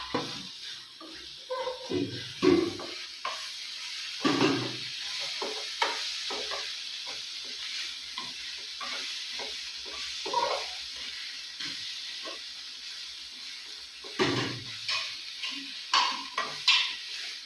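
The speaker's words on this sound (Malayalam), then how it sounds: "നമുക്ക് തക്കാളി അങ്ങോട്ടേക്ക് ചേർത്ത് കൊടുക്കാം, ഇളക്കി കൊടുക്കാം." Tomato stirred into crab roast masala in a frying pan, with soft sizzling under repeated scrapes and clinks of a spoon against the pan, sounding close and moderately loud, with no talk.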